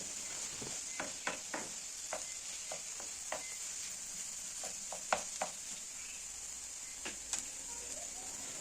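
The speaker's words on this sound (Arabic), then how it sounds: "غادي نحرك المكونات ديالي مزيان" Msemen filling ingredients with soy sauce cook in a pan, a steady soft sizzle broken by scattered scrapes and taps of a spoon stirring, close and moderately quiet with no talk.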